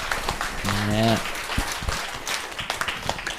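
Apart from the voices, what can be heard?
audience applause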